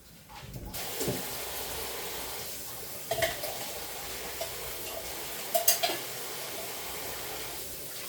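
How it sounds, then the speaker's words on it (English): Canned beans rinsed under a running kitchen tap: a steady hiss of flowing water with a few brief clatters and splashes, close and moderately loud, with no voices. "let me rinse out these beans"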